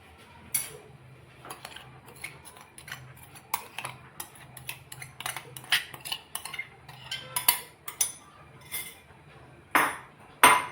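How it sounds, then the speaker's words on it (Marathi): A spoon mixes sugar into strained yogurt (chakka) for amrakhand in a bowl, giving irregular close clinks and scrapes of metal on the dish that come in bursts and grow louder toward the end, with no talking. "तर हे आपण आता मिक्स करून घेणार आहोत सावकाश असं आपल्याला पूर्ण ही साखर आपल्याला याच्यामध्ये मिक्स करायची आहे"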